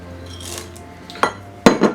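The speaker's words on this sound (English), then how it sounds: "I'm going to add my chocolate chips." Chocolate chips added to brownie batter in a bowl and stirred, giving a few clear clinks and scrapes of utensil against the bowl, the sharpest two near the end, close by with no talking.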